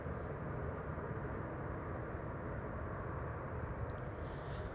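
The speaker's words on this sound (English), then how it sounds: "That's an A350 arriving from Atlanta, Georgia." A Delta Airlines Airbus A350 arriving at Amsterdam Schiphol produces a steady, distant jet roar, a broad even rumble that stays constant throughout with no voices.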